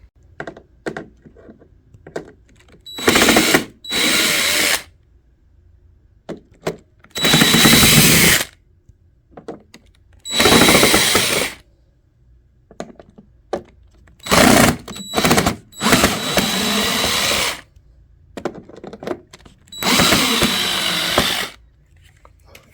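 Power drill running in several short bursts, spinning screws out of the housing of a Snow Joe 323E snowblower during an auger replacement, loud and close with quiet gaps between each burst.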